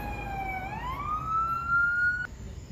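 A single emergency vehicle siren wails at a traffic accident scene where fire trucks, an ambulance and police cars arrive, its pitch rising and holding steady before cutting off, heard at moderate distance over low traffic rumble.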